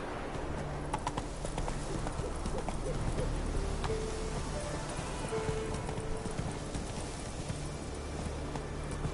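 Roach, the horse in The Witcher 3, gallops in a steady rhythmic clip-clop of hooves over a constant low game soundscape, with no talk.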